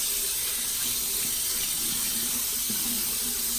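Water runs steadily from a tap over a makeup sponge being washed in a sink, a continuous close hiss and splash with slight changes in the flow as the sponge is moved under it.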